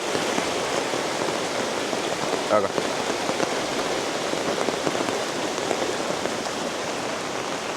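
Steady, heavy rain pours down across the whole clip, a dense hiss of drops on surfaces, with a brief spoken word partway through.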